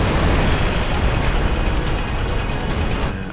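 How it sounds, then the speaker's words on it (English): A building blows up in the video game Final Fantasy X: a loud, dense roar of blast and rumbling debris fills the whole stretch with no voices before it thins out at the end. "This is not how building explosions work"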